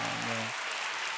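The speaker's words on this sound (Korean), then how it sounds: "우리 박수 한번 쳐드릴까요?" A church youth congregation claps for a newly ordained pastor, a short burst of dense applause that starts as a voice trails off.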